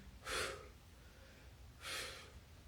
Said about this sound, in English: Time those exhales with the push up